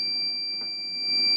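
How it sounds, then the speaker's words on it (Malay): A steady, high electronic buzzer tone from a solar inverter that tripped after a short-circuit test, sounds continuously, thin and piercing, with faint background hum. "Tak trip, tapi inverter yang trip. Nampak? Buzzer bunyi."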